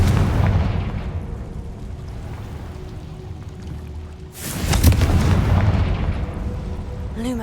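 A Confringo explosive spell blast in Hogwarts Legacy, a sudden loud boom partway through that cuts through a low rumbling game ambience, followed by lingering crackle and rumble.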